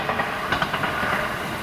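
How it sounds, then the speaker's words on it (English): A Gotemba line train passing near farm beds in Japan, a steady rumbling rush with faint rhythmic clatter of wheels on track, fairly close and continuous throughout. "Oh, train's coming."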